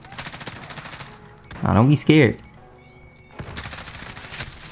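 M4A1 rifle fire in Modern Warfare, sprayed in steady rapid bursts at the start and end of the clip, with a player speaking briefly in the middle.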